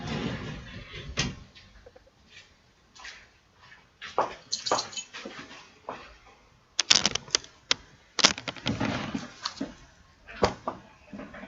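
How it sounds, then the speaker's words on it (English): Typing on a manual typewriter: irregular bursts of sharp, close mechanical clacks with short pauses between runs of keystrokes and no talk. "You like my typewriter?"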